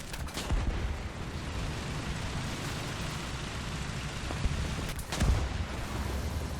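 Tank gunfire in the War Thunder video game, with a KV-1 tank nearby: two heavy shots sound faint and distant over a constant low rumble of battle noise, and no one speaks.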